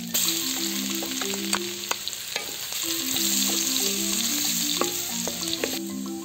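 Ginger and garlic sizzle in hot oil with steady crackle and occasional pops, while a soft musical tone plays underneath; no voices.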